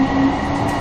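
SMRT C151A metro train at Marina Bay station: a brief, steady close-up hum of rolling stock and motor drone, continuous with no voices.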